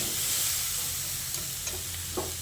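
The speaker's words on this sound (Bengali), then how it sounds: "গ্যাসের ফ্লেমটাকে মিডিয়ামে করে 2-3 মিনিট মতো ডালটাকে কষিয়ে নিয়েছি" Masoor lentils frying on a medium gas flame make a steady, close sizzle, with a few soft scraping taps as they are stirred and no voices.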